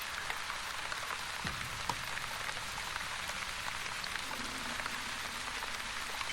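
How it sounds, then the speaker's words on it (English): Rain falls in the video game The Wandering Village as a constant close hiss of drops striking surfaces, with scattered individual drops ticking through the even wash of sound. "Oh, it's raining."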